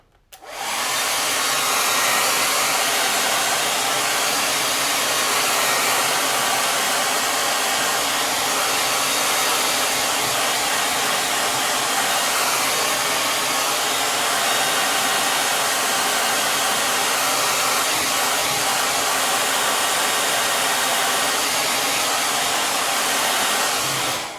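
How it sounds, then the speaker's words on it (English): A blow dryer dries paint on a painted shamrock door hanger, running as a loud, steady, close whooshing roar for about 24 seconds after a quick switch-on, with no talking. "in a hurry and you're using the blow dryer, just make sure that your paint is not near"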